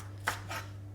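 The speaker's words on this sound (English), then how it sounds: "I'm just using the baby spinach, and I'm just chopping it up roughly." A knife chopping through baby spinach leaves on a board: two quick soft cuts, close and quiet, over a faint steady hum.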